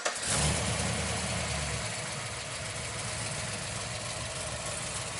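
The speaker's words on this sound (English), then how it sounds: "he's going to start the car up right now so you can hear how this thing idles" A modified Chevy Caprice police car fires up with a brief cranking burst, then settles into a steady, loud, close idle with a slight lope from the cam.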